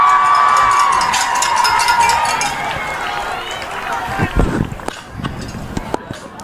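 An Ontario crowd cheers in the stands at an under-18 women's Canadian football national championship game after a turnover on downs. The cheering starts as a loud, steady roar, then thins into scattered shouts and claps.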